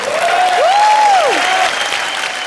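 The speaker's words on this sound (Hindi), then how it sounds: "दिल वाले के लिए जोरदार तालियां हो जाएं" A studio audience at a comedy show applauds in a steady, dense wash of clapping, with a rising and falling whistle cutting through.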